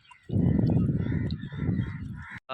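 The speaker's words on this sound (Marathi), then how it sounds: "कावळ्यांची शाळा सुटली. किती कावळे बघा." A big flock of crows caws at dusk beside a fishing spot, with dense overlapping harsh calls that stay loud and close for about two seconds before stopping abruptly.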